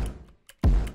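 Two layered electronic kick drums for a hyperpop glitchcore beat, one loud and punchy and one bit-crushed, heard as a softer hit, a short gap and a click, then a heavy booming thump that rings out to the end.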